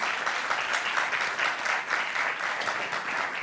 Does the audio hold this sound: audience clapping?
yes